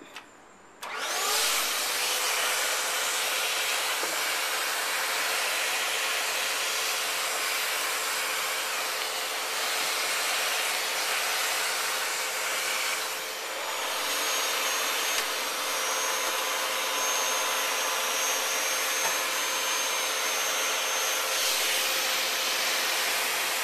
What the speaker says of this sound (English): first step for me is to vacuum all that out